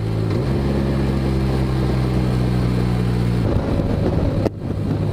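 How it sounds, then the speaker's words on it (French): Steady roar of wind gusts buffeting a moving vehicle on the road in cold, rainy weather, constant and loud throughout, with a brief dip near the end. "on se prend des rafales de vent dans la gueule"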